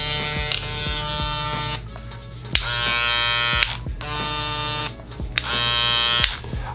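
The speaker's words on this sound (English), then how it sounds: "this clipper can be quite loud" StyleCraft Rebel hair clipper running loudly and steadily up close, a constant motor buzz and whine broken by a few brief clicks and bumps as it is handled.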